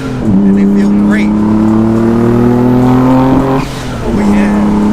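A 1991 twin-turbo Nissan 300ZX revs hard while cornering, its engine a loud, steady drone with a brief dip mid-way as it shifts, heard from inside the car with talking over it.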